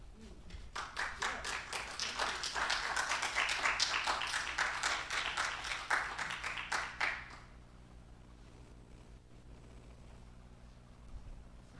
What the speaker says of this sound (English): Let's give her another round of applause and love